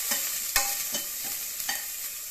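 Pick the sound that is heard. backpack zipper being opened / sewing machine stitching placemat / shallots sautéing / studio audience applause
shallots sautéing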